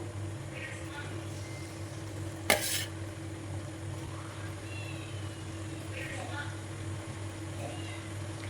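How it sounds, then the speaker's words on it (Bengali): Hilsa fish curry with fried potato and eggplant being stirred in a simmering gravy, producing faint scraping and bubbling under a steady low hum, with one sharp clatter partway through. "তারপর ঝোলের সাথে ভালোভাবে মিশিয়ে নিয়ে"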